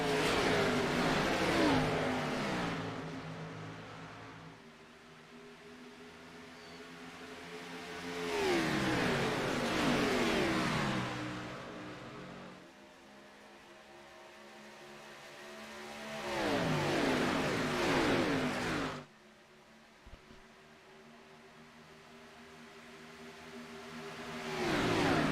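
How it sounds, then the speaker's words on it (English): Race cars at Daytona roar past in repeated waves at a green flag restart, engines rising loudly as each pack approaches and fading away between passes, with no talk. "Green flag racing once again."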